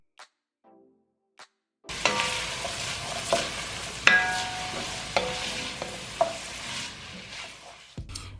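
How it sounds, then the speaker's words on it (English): Onions seasoned with salt and pepper hit a pan of hot butter and olive oil, after brief quiet taps, then a steady sizzle with occasional utensil clinks and stirring scrapes. "I take my butter and olive oil and I'll add in all my onions, seasoned with salt and pepper, and saute for about 5 minutes until they're translucent"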